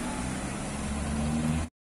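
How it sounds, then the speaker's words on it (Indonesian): An Azka medium bus pulls in at a roadside stop in Ciamis, a steady engine hum with a faint tonal whine rising slightly before cutting off abruptly. "Kembali masuk, ini bus medium Azka."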